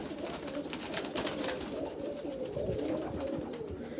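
Pigeons in a loft coo softly beneath a constant broadband background hiss, their low rolling calls repeating throughout.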